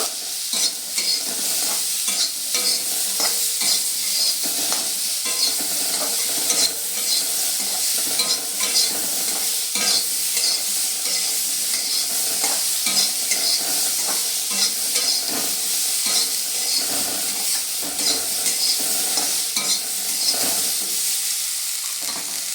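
Dal ingredients fry with salt in a pan, giving a continuous loud sizzle with constant stirring scrapes and light clinks of the utensil against the pan, and no voices.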